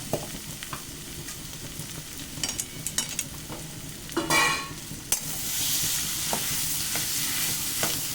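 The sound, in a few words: sautéing boiled potato filling in a pan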